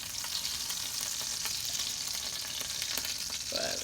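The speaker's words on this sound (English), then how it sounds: "Now we're gonna have it sear for another like good 6 minutes" Chicken thighs sear in butter in a pan, giving a steady, close, bright sizzle with faint crackles throughout and no talk.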